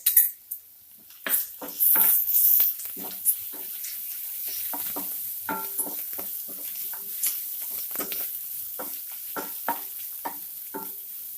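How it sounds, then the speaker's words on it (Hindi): Ginger garlic paste frying with browned onions for Assamese-style urad dal, a steady low sizzle broken by repeated clinks and scrapes of a utensil stirring in the pan. "अब हम इसमें डालेंगे अदरक लहसुन का पेस्ट"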